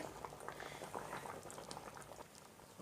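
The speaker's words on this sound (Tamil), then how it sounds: "இப்போ நல்லா கொதிச்சிருச்சு" A pot of drumstick-leaf lentil sambar bubbles at a steady rolling boil, close by, with continuous popping and gurgling and no talk.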